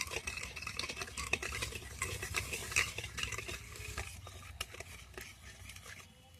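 Sugar stirred into a carrot sweet mixture in a pot, repeated close scraping and clinking strokes of a spoon against the vessel with a faint sizzle beneath, continuous and without voices.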